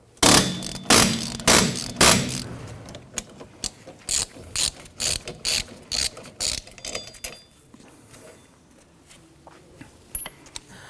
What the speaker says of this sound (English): you have to just use your ratchet, or just use a tool that is a little more higher powered